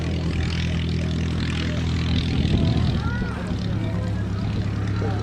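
A tailwheel propeller aircraft at an air show, its engine droning steadily with a throbbing low tone at moderate distance, while someone talks over it throughout.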